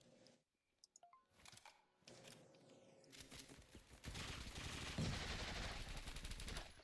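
Gunfire in a video game, a few faint scattered shots at first, then a loud, sustained wash of continuous firing that builds and holds to the end.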